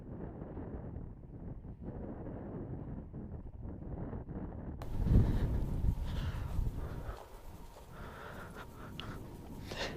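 Strong wind buffets the microphone outdoors during a drone test flight, a steady low rumble that swells into a louder gusty roar midway before easing back to a constant blow.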